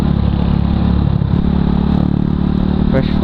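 A trail motorcycle engine runs steadily and close by on a wet road after rain in Laguna, with a low rumble and slight revving, while people talk over it.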